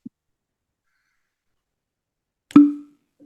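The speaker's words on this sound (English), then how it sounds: "A solid cork pop for a smaller bottle." A cork pops out of a small bottle of 93-proof Baby Jane bourbon in one sharp, close pop with a short ringing tail. A faint tick comes just before it, and the rest is quiet.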